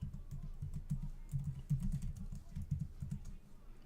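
A password being typed on a computer keyboard: quick, uneven runs of soft key clicks close by, with a few short pauses between bursts.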